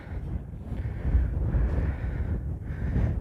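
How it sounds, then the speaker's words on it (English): Strong wind roars across a trail over an Icelandic lava field, gusting and buffeting the microphone in a continuous rumble with swelling and easing pulses. "also very windy today."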